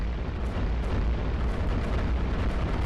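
A cannon fires in the tower-defense game iBomber Defense, set in North West Africa, giving a dense, continuous roar of booming blasts that run together at a steady loud level for the whole stretch.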